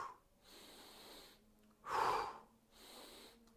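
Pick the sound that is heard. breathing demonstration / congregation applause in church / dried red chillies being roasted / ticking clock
breathing demonstration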